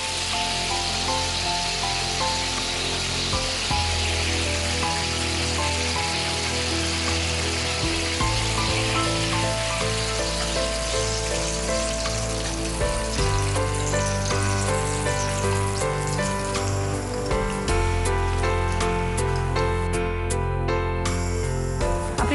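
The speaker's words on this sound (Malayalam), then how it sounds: "ഈ ചൂടായി കിടക്കുന്ന ഇതേ എണ്ണയിൽ ബാക്കി പഴവും ഇതുപോലെ തന്നെ ബാറ്ററിൽ മുക്കി വറുത്തെടുക്കുക." Banana fritters fry in hot oil with a dense, continuous sizzle and crackle that stays loud and even throughout, with no voices.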